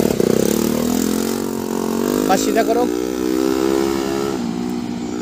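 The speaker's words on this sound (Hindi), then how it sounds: "अभी नहीं, अभी बाइक आ रही पीछे से देख करके" A motorcycle comes up from behind a car during a reversing driving lesson, its engine humming and rising under an instructor's spoken directions inside the car.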